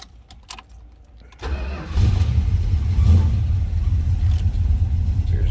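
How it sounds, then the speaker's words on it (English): A 1975 Dodge Dart two-door hardtop engine cranks briefly, then catches and settles into a loud, steady idle with a slight rev, close by and with no talking. "Let's go ahead and fire it up."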